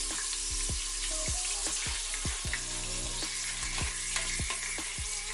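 Ground green peppers sizzling in a hot pan with steak sirloin tips, a loud steady frying hiss up close, punctuated by regular spoon or spatula taps, with no talking.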